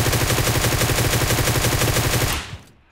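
Rapid automatic gunfire from PUBG Mobile, one loud, continuous spray of shots lasting over two seconds before cutting off abruptly.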